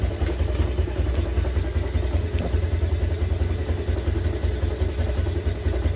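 A Yamaha Vega R motorcycle engine idling smoothly once warmed up, a steady close low throb with fine rapid ticking and no revving or talking.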